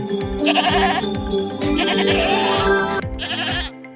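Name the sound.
goat bleating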